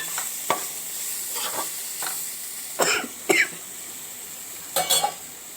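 Eggplant and tamarind-leaf curry being stirred in a pan, with a few scattered spoon scrapes and clinks over a soft, steady sizzle; no one talks.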